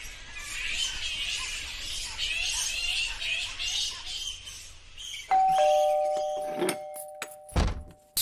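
A doorbell chimes with sustained electronic tones after several seconds of loud hissy background noise, followed by a couple of dull thumps.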